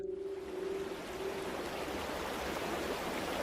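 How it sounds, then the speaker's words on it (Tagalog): A river flows steadily in a remote rural area of Capiz, a soft continuous hiss of rushing water, faint and even, with a brief low tone at the start. "Nakaka-relax yung tunog ng ilog."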